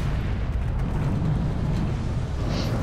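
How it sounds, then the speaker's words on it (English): Titan-class plasma cannon blast in the Space Marine video game, a loud, sustained rumbling explosion roar filling the whole moment with dense low boom and no talking. "Considering that was a Titan-class plasma cannon, you would expect that explosion to be bigger."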